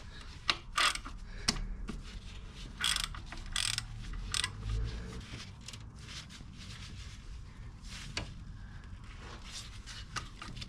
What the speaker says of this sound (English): So just gonna relieve the tensioner here.